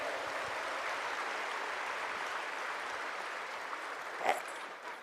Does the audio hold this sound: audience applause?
yes